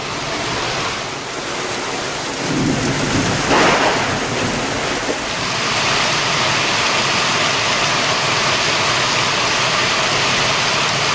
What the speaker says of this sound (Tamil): தமிழகத்தின் பல்வேறு பகுதிகளில் பரவலாக கனமழை.